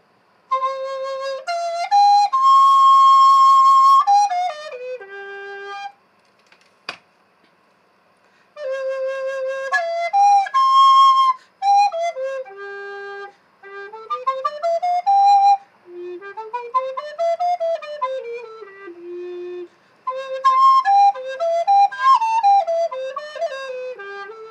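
An ABS plastic recorder plays a bright, clear melody in phrases of held and stepping notes with pauses between them, close and unaccompanied.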